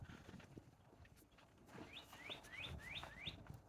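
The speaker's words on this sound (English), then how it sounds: "Hear that bird?" A small bird repeats a quick rising chirp five times in a row, faint and distant over a quiet outdoor background near Fort Clark Springs, Texas.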